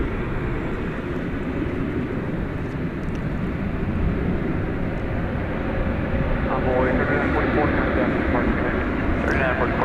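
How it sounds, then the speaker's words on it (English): A United Airlines Airbus A319 at DFW Airport at night, its broad engine roar holding steady and fairly loud for the whole stretch, with a voice talking over it. "It's a United aircraft, what looks like an Airbus A319, I'm going to say."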